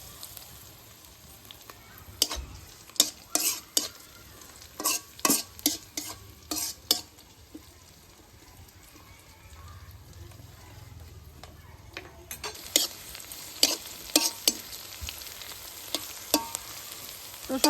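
Black cumin and other spices fry in a pan for a shrimp pakora and prawn paste recipe, with bursts of sharp spatula clicks and scrapes against a soft, steady sizzle, close and moderately loud.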